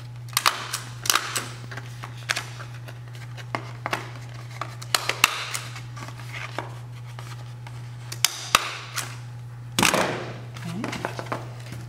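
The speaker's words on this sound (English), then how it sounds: "Just go ahead and staple." Paper mask pieces for a raven being stapled together, a run of sharp, close clicks and snaps at irregular intervals over a steady low hum, with some rustling of paper.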